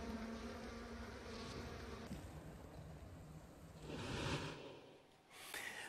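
A swarm of honeybees buzzes loudly and close, a dense continuous hum that swells into a sharper rush near the end, with no voices over it.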